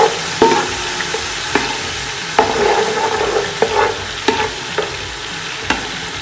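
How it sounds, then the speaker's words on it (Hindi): Spices frying in oil in a pan for chicken korma, a steady close sizzle broken by repeated sharp scraping knocks of a spoon stirring against the pot, with no talking. "ये सारे मसाले मैंने ऑयल में ऐड कर दिए हैं। इन्हें मैं हल्का सा फ्राई करूँगी"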